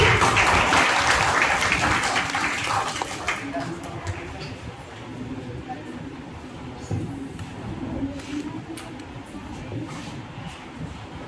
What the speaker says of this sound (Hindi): जोरदार तालियां हो जाए सर के लिए भी।